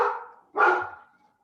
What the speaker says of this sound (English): That's my dogs who are in violent agreement.